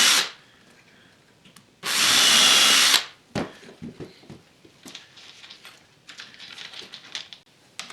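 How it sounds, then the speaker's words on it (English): A power drill boring pilot holes in wood for a box joint jig, one loud close burst lasting about a second, followed by clattering and handling noises. "So I'm just going to take part N off temporarily and line up part X and drill the holes."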